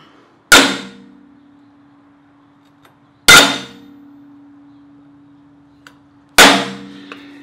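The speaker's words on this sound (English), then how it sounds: "Now, just a little center punch in each corner right here." Three sharp, ringing metallic strikes spaced a few seconds apart, each a hammer blow on a punch that leaves a brief humming ring on the metal.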